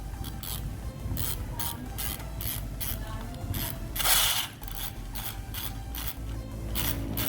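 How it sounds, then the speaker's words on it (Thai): Rapid ratcheting clicks of a winding E&C HK416 airsoft magazine, with BBs rattling as they feed up, close and steady in repeated bursts of winding over about seven seconds. "เมื่อกี้เสียงลูกกระสุนมันไหลขึ้นไปตรงนี้นะครับ ปั่นแล้วลูกกระสุนมันไหลขึ้นไปนะครับ"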